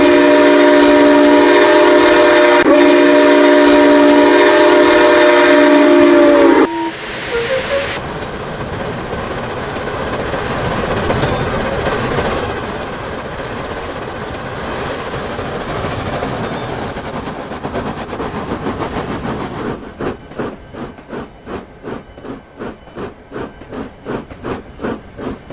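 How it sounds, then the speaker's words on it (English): Train noise rumbles loudly with clanking and rolling wheels, building into a steady rhythmic clickety-clack as the cars move off, with no voices. "said Andrew as he uncoupled the Memorial Day train and headed off to the yards."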